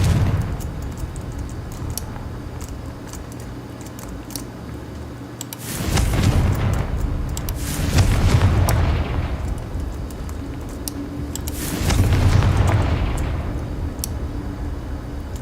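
Confringo blast spells in the video game Hogwarts Legacy go off as loud, booming explosions, with bursts near 6, 8 and 12 seconds over a steady rumbling background.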